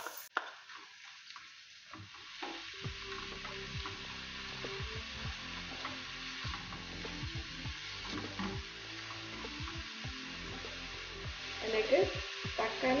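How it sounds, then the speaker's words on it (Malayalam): Ground onion paste dropped into a hot pan for chicken masala, sizzling and frying steadily at close range while being stirred, with faint scraping throughout. "ഇതിലേക്ക് അരച്ചു വെച്ചേക്കുന്ന സവാള ഇട്ട് കൊടുക്കാം."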